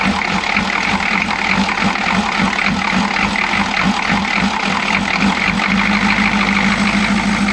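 A Chevy G20 van with a 6.2L diesel engine idles roughly, making a loud, continuous, close-up clatter with a steady rattling pulse and no talking.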